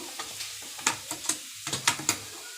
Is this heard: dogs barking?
no